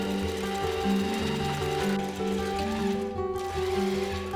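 A sewing machine stitches a blouse seam close to the fabric edge, a steady close mechanical hum and rapid rattle running continuously with slight shifts in pitch, with no talking.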